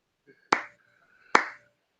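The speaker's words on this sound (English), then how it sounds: "this is me sarcastically applauding" Two loud, slow hand claps, spaced nearly a second apart, ring out alone in a quiet room, a deliberate, unenthusiastic applause.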